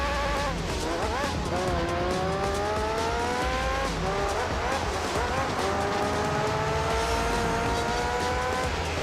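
A race car in the video game Gran Turismo 3, its engine whining loudly and rising through the gears, with tire squeal and skidding mixed into the constant roar.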